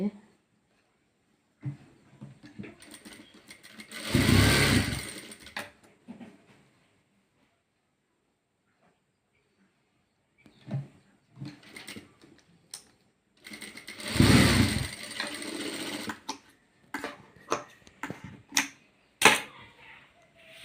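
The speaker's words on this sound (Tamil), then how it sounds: "அதையும் ரெண்டாக மடிக்கிறோம் மடிச்சிட்டு அதையும் தைக்கிறேன்" A sewing machine stitches scrap fabric for a hair band in two short bursts of rapid mechanical whirring, separated by quiet pauses, while a person talks and there are occasional clicks and handling noises.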